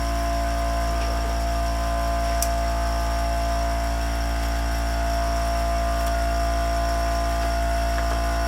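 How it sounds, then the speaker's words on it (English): An air compressor runs steadily in a woodworking shop, giving a constant droning hum with layered tones. It stays at an even level throughout with no talking. "That's the compressor again."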